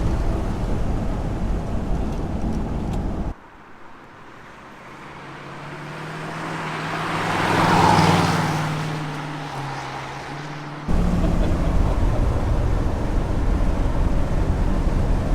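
A 1956 Ford Thunderbird rounding curves on an empty test loop, its engine rising to a steady swell and fading again as it passes, heard loud and close amid constant road and wind rush.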